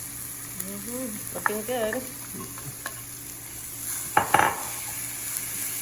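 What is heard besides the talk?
carrots added to frying pan, sizzling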